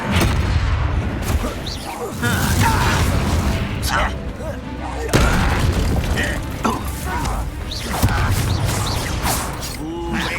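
Confringo spell explosions in the Hogwarts Legacy video game: dense booming blasts and crashes layered over continuous combat noise and music, with voices shouting throughout.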